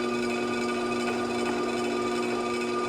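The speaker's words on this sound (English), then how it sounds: "So here I'm trimming off the excess." A trim tool shaves excess clay off a pottery honey jar spinning on the wheel, a steady close scraping over the wheel's constant tonal hum.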